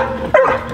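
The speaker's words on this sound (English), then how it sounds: "neighbor dog's out" A neighbor's dog gives a brief bark or yip outdoors at dusk, heard over steady background noise.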